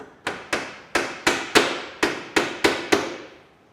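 Nine sharp hammer blows drive tacks into a wooden batten on a carvel-planked boat hull, each strike loud and close, evenly spaced at roughly one every third of a second with short ringing decays.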